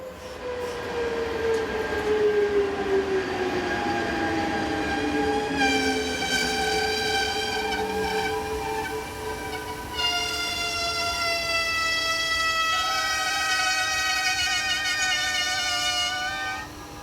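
A Swiss Intercity train hauled by a locomotive in standard red livery, running from Zurich to Chiasso on the Gotthard north ramp, passes close by with a loud, sustained electric whine of layered tones that shift in pitch. No one speaks.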